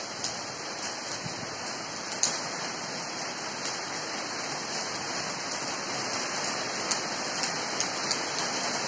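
Heavy monsoon rain pours down steadily, a dense, unbroken hiss of water on surfaces with scattered sharper drips and taps standing out near the listener.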